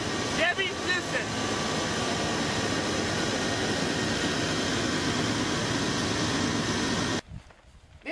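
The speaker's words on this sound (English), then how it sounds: "has a 350 Chevy engine. As you can hear, it's a high quality engine with no ticks or any obscene crazy sounds coming from it." A Chevy 350 V8 idles in a four-wheel-drive pickup truck, a steady, fairly loud running drone with an even rumble, sustained for about seven seconds before cutting to near quiet.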